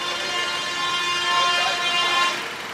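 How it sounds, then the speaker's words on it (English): Lorries honking on a busy Indian roadside beside a Punjabi restaurant: loud, overlapping horn blasts that blare almost continuously and swell in the middle before easing slightly. "You can hear the lorries beeping away"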